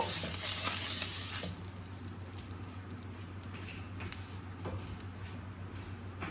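A hot pan greased with butter for dosa hisses loudly at first, then settles into a quieter, steady crackling sizzle with a few soft clicks of utensils.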